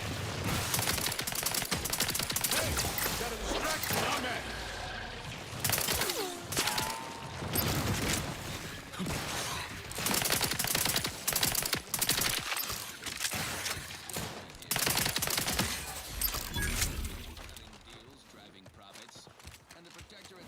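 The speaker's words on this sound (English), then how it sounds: "Oh, he's also shooting!" Bursts of enemy gunfire in the sci-fi shooter Outer Worlds 2, rapid volleys of shots repeating over about seventeen seconds amid combat noise and game music, then fading to quieter ambience.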